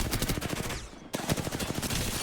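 Rapid gunfire from a video game weapon rattles in dense bursts, then breaks off briefly with a mechanical sliding cock before the rapid shots resume, loud and close.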